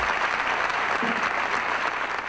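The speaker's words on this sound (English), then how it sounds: "Applause from a packed theater, all for this woman." Applause from a packed theater audience, dense and steady, filling the whole short stretch at close range without letting up.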